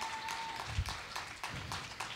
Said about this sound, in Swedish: Applåd för alla stipendiater och Emilia!